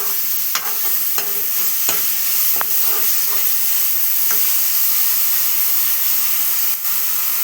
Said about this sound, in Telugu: కలుపుతూనే ఉండాలని కంటిన్యూగా.